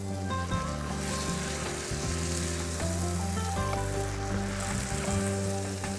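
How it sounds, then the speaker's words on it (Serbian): A mixture sizzles steadily in a pan after white wine goes in, with a loud, continuous frying hiss and occasional stirring scrapes, heard up close without talk. "Nastavljam da mešam."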